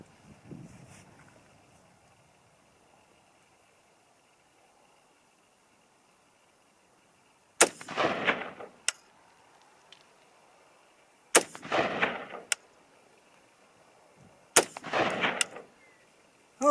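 Rifle firing 50 grain Hornady V-MAX ammunition outdoors: three loud, separate shots several seconds apart, each with a rolling tail, after a quiet stretch.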